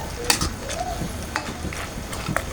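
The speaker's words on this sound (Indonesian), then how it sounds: "Kita aduk dulu." A spoon stirs noodle seasoning sauce made with sugar and soy sauce in a pan, giving scattered scraping clicks and taps over a soft, steady sizzle, without voices.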